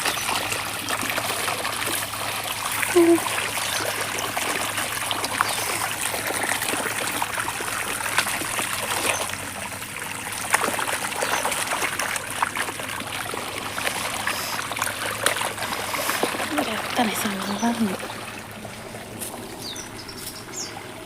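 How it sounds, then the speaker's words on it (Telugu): Water trickling slowly from drip irrigation pipes onto plants in a farm field, a soft steady dribble heard up close, with occasional faint bird calls in the open air behind it. "ఇక డ్రిప్ పైపుల నుంచి చిన్నగా స్లోగా గిట్లా పడుతుంటాయి"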